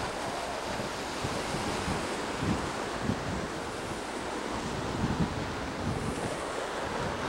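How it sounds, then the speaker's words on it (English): Rough ocean waves break on a shore as a steady, broad roar of surf, with gusty wind buffeting the microphone throughout and no voices. "And the waves."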